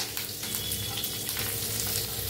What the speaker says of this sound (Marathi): आता छान असं भाजून घेऊया आपण